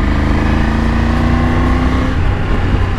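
A Triumph Tiger 900 motorcycle engine revs on a main highway, a loud, steady, close-up drone with a rising tone that holds for the whole stretch, no talking.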